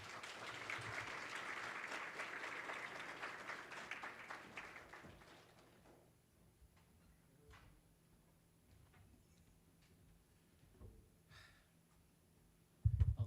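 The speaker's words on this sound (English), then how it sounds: "please give a round of applause for Mr." An audience at a pinning ceremony applauds in a dense burst of clapping that fades out after about six seconds, leaving quiet room noise with a few faint scattered sounds.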